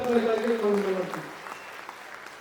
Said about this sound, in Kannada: ಎಲ್ಲರೂ ಎಲ್ಲಾ ಸಮಾಜದ ವರ್ಗಗಳಿಗೆ ಜೋರಾಗಿ ಚಪ್ಪಾಳೆ ಹೊಡಿಬೇಕು.